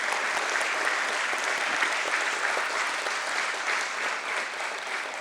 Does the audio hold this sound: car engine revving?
no